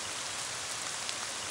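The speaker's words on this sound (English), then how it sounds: "And now it's raining." Rain falling in the video game Ib, a dense steady hiss of downpour, even and unbroken throughout.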